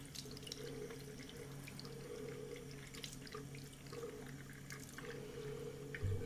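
Paintbrush rinsed under a running tap, a quiet steady stream of water with small splashes and drips as the bristles are pressed, fairly faint and with no talk.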